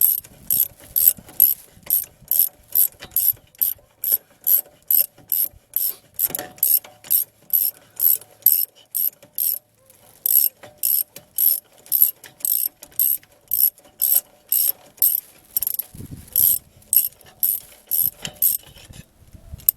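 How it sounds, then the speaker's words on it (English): Hand ratchet clicking in a steady, repetitive rhythm of quick bursts while loosening the auto locking hub on a 1997 Ford F250, close and fairly loud, with brief pauses between strokes and no talk. "I have to pull the hub off in order to do so"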